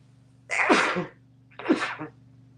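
Two sneezes in quick succession, each a sharp burst close to the microphone, over a faint low hum.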